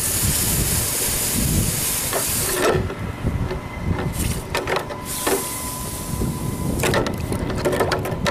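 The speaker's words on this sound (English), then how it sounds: "we're going to heat it back up and then quench it to lock in hardness" Loud hissing bursts of steam as a hot steel trowel forged from a railroad spike is quenched in liquid, surging and fading several times with bubbling sizzle between.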